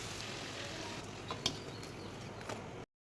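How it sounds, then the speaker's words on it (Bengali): Luchi fry in hot oil, a steady, quiet sizzling hiss with a few faint pops and ticks. The sizzling cuts out abruptly near the end. "এবার লুচিগুলো কেটে রেখেছি, এবার এক করে সব ভেজে নেবো"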